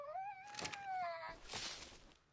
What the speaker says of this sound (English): he's just meowing at me to meow at me right now